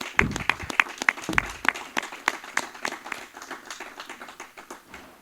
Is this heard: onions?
no